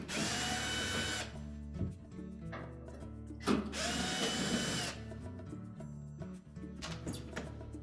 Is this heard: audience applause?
no